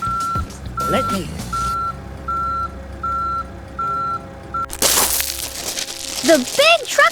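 A toy dump truck at a miniature road construction site sounds steady, evenly spaced reversing beeps, then tips its load of gravel with a loud crunching rattle, followed by a few chirping sounds.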